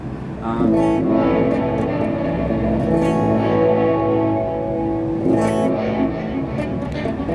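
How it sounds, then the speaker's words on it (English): Electric guitar played through a Seymour Duncan Silver Lake reverb pedal at a NAMM 2018 demo, sustained ringing chords with a subtle repeating reverb tail, fairly loud and continuous. "you've got still the reverb size. So it's adding a subtle repeat"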